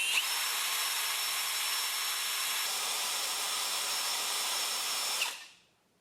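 A power drill spinning a Yamaha GT80 speedometer cable whirs at a steady high pitch for several seconds, then cuts off and spins down to silence.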